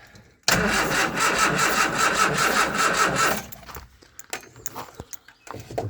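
An old 1969 camper's engine catches on a cold start and roars roughly for about three seconds, then drops away to faint, irregular clatter and rustling.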